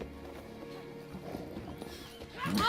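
In The Witcher 3: Blood and Wine video game, a horse's hooves clip-clop in a steady rhythm, then the horse gives a loud whinny near the end.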